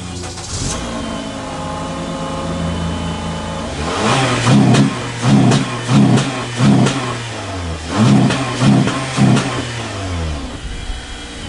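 Car engine fitted with a K&N cold air intake starts, idles, then revs in a series of sharp, loud bursts close by, deep and aggressive, with no talking.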